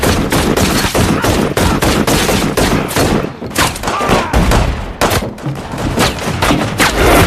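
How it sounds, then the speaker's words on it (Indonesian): Dense, rapid gunfire in a sustained film shootout, loud and close, with bursts overlapping throughout. "dan terjadilah baku tembak."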